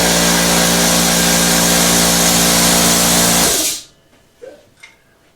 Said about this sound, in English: The compressor.